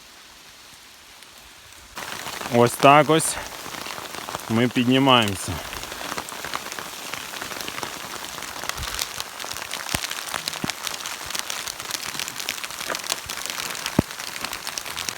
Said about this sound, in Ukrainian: йшли ми по дощу